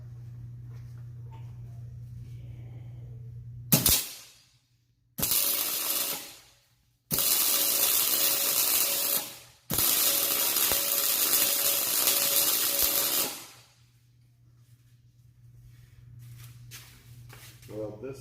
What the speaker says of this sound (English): I'm gonna go ahead and weld this side.